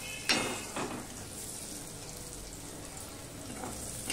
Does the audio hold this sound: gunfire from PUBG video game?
no